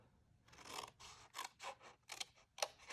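Scissors snip through cardstock up to a score line in a crafting session, a quick run of about eight crisp, close cuts in an uneven rhythm, quiet overall, with no voices.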